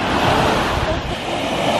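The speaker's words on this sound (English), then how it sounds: "the surf is really coming up to our little spot here" Ocean surf at a Grand Cayman beach, a steady broadband wash of waves rolling in close by with some wind noise on the microphone, loud and continuous with no clear talk.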